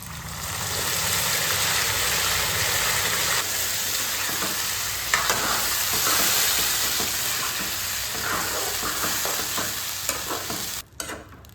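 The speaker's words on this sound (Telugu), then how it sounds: "నూనె పైకి తేలేంత వరకు కాసేపు వేయించుకోవాలి" Masala paste with bay leaf and cumin fries in hot oil for a mutton curry, giving a steady, close sizzle that runs unbroken throughout with faint stirring scrapes.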